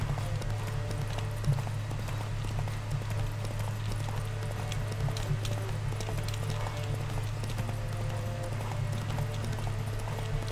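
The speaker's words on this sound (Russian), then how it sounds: "Победить в конных скачках." Hooves of several horses pound in a steady, fast rhythm during a horse race in The Witcher 3 video game, sitting under a constant low engine-like drone and game ambience.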